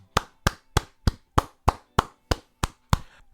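One person claps ten times in a slow, even rhythm, each clap crisp and close with a short decay and quiet gaps between.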